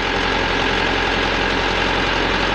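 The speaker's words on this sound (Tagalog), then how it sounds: "Okay, tapos ibibira ulit natin yan." A pickup truck engine treated with GTO Max oil additive runs loud and close, a dense continuous roar with steady low-frequency throb across the short span and no voices.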